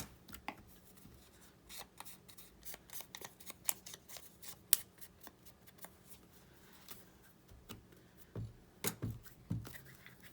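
Scissors snip paper in a quiet indoor crafting session, scattered sharp little cuts and rustles spread unevenly, with a few soft handling bumps and low background noise.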